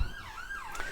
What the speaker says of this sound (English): it was an ambulance just passed by